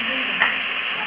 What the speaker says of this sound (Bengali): আর যে আলুগুলো ছেড়ে দিচ্ছি, ভাজতে থাকছি